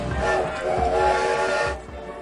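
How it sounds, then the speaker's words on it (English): A train whistle in the OpenRCT2 theme park game sounds as a steady, hissy, harmonic blast for about two seconds before cutting off, alone with no talk. "Train."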